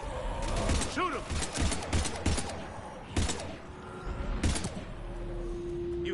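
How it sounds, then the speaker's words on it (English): Rapid bursts of gunfire crackle through a firefight in Mass Effect, with loud volleys, thuds and mechanical clanks rolling close by, and brief voices breaking in between the shots. "We're taking heavy fire."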